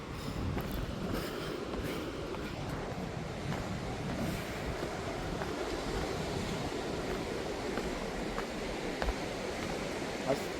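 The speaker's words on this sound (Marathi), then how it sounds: "समुद्र बऱ्यापैकी खवळला लाटा थोड्या मोठ्या मोठ्या आहेत" A rough, wind-whipped sea at high tide off Ladghar beach gives a steady, unbroken roar of surf and gusting wind, with no voices and only faint swells in loudness.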